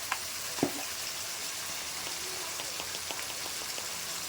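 Tomatoes fry in a pan with ginger-cumin paste, giving a soft, steady sizzle and hiss throughout, with one brief clack of a utensil near the start.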